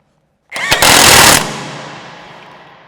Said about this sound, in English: Okay, now we can tighten up all the bolts.